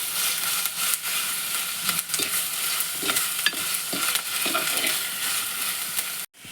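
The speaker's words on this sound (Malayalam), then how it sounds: "നമുക്ക് എടുത്ത് വെച്ചിരുന്ന ഇഞ്ചി വെളുത്തുള്ളി പേസ്റ്റും പച്ചമുളകും കൂടി ഈ എണ്ണയിലിട്ട് നന്നായിട്ടൊന്ന് വഴറ്റി കൊടുക്കാം" Ginger-garlic paste and green chilies sizzle steadily in hot oil, with repeated scraping stirs of a spatula across the pan; the frying hiss is constant and close, with no talking.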